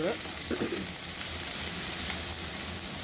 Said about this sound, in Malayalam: കടുക് പൊട്ടിക്കഴിഞ്ഞു അപ്പോൾ നമ്മൾ ഇഞ്ചിയും വെളുത്തുള്ളിയും രണ്ട് കതിരി വേപ്പലയും കൂടി ഇട്ടതാണ്